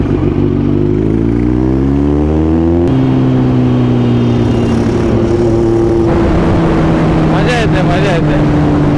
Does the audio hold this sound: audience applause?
no